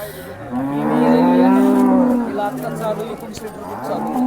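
Cows moo loudly and close by at the busy Baramati cattle market. One long, drawn-out low call is followed by shorter lows, with people talking in the background.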